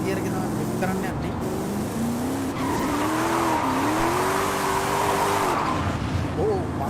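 A car drifting in the Forza Horizon 5 racing game, engine droning steadily in fourth gear with long tire squeals rising and falling throughout, loud and continuous.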